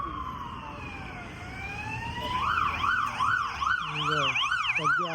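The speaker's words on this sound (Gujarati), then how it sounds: "એમ્બ્યુલન્સ આવતી લાગે છે." An ambulance siren wails on a Budapest street, first a long sliding tone, then a fast rising-and-falling yelp that grows louder as it approaches.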